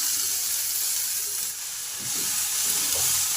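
Washed gime shak greens drop into a pan of frying onions and garlic, setting off a steady, close hissing sizzle that dips briefly and then swells again.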